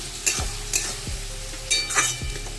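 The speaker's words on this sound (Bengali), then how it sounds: "আর এই যে চিকেনটা একটু ফ্রাই করে নিয়ে রাখছি" Chicken sizzles in ghee in a pan while a utensil stirs and scrapes it in quick, uneven strokes, about five sharp scrapes over a steady close frying hiss.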